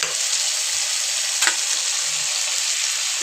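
Sour yogurt going into hot oil for a potato and pointed gourd curry, a constant close sizzle with a brief sharp crackle about halfway through.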